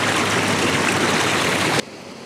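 A river rushes steadily about twenty yards downstream of Venford Falls waterfall. The flow is loud, close and continuous before cutting abruptly to a quieter hiss at the end.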